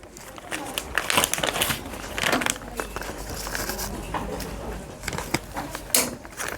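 Crisp crinkling of a plastic packet being handled close by, irregular bursts of rustling and crackling with brief pauses, under quiet background talk.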